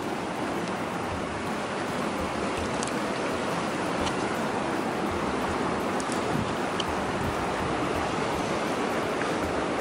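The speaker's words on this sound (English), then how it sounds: "this river is really high." A river running high after rain rushes steadily through a forested gulf, a dense, continuous roar of flowing water, loud and unbroken throughout.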